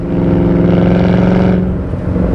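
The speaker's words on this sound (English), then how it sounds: "Clutch feels good, downshifts exactly like we want it to." A supercharged 4.6-litre 2004 Ford Cobra downshifts, the engine note droning loud and close before the revs fall away.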